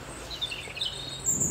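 Birds sing in a garden with faint, high chirps and short tweets scattered over a low, steady background hum, quiet and somewhat distant, with no voices.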